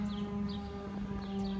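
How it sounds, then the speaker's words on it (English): A civil defense siren sounds in a small town near a war memorial, a steady distant wail with sustained tones held at an even level throughout. "This siren just fired up."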